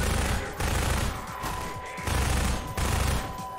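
Machine gun fire in the video game Half-Life 2, heard as dense sustained bursts of automatic shots in pulses about half a second to a second long, loud and continuous with no talking.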